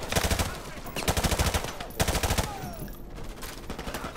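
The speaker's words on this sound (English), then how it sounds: "Why you shooting me, man?" Rapid automatic gunfire in Call of Duty 4: Modern Warfare rattles in repeated bursts with brief gaps, loud and close in a game soundtrack.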